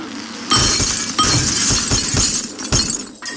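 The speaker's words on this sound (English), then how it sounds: "So it's a glass break." Glass shattering in the Happy Wheels video game, loud repeated crashes and breaking bursts that follow one another across the clip with little pause.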